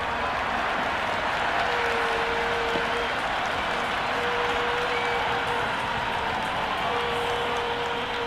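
Stadium crowd at a domestic one-day cricket match roars and applauds steadily after a boundary, a dense, distant wash of cheering and clapping that holds at an even level throughout with no talk.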